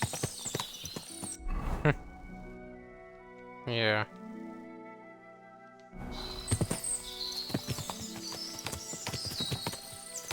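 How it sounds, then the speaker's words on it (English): Horses in a stable in the video game Kingdom Come Deliverance II: hooves clip-clopping in bursts, a horse's whinny midway and snorts, close and moderately loud, with a brief spoken word and musical tones in the background. "Ooh, looks like a horse stable here."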